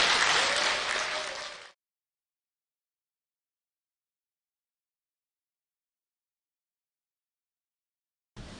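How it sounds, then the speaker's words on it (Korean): An audience at a tea-culture leaders' training seminar claps to welcome a lecturer to the stage, a short burst of dense applause that fades out after under two seconds, then silence. "박수 부탁드립니다"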